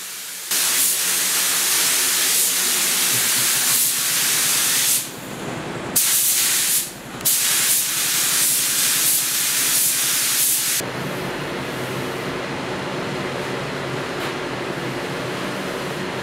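A spray gun lays clear coat onto the front fenders of a 1956 Ford pickup, a loud steady hiss of atomised spray that runs continuously with two brief pauses between passes, then a quieter hiss near the end.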